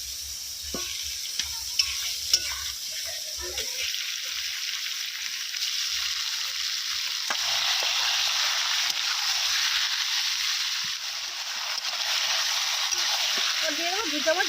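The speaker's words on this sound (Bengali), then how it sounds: "প্রথমে পেঁয়াজটা ভাজা হচ্ছে, হালকা ভাজা হয়ে এসেছে, এরপর ধুয়ে রাখা চিকেনের পিসগুলো দিয়ে দেবো" Chicken pieces and onions fry in a pan with a steady, close sizzle that runs throughout, with a few clinks and stirring scrapes, and faint voices in the background.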